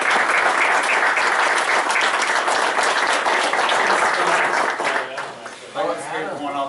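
A crowd at a school community town hall applauds a panel with sustained, dense clapping that fades near the end as a voice begins speaking.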